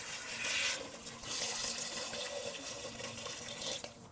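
Water poured from a tap into a pot of rice for kabsa, a soft, continuous splashing and trickling stream, fairly faint and close, with no talking.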